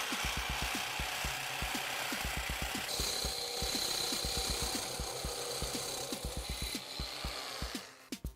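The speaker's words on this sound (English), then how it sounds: "Here I'm using a metal blade. This is specifically for cutting through metal with ease." A jigsaw fitted with a metal blade cutting through metal, a close, rapid reciprocating rasp with a steady buzzing motor whine, running evenly before slowing to a stop at the end.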